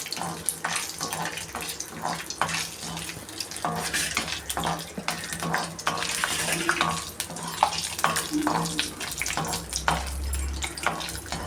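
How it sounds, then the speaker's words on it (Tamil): Cashew nuts fry in hot oil and ghee for a traditional Tamil sweet, with a continuous crackling sizzle and scraping stirring strokes, loud and close. "எண்ணெயும் நெய்யும் போட்டுட்டு சூடானவொடனே முந்திரி பருப்பு போட்டு வறுத்துக்கணும்"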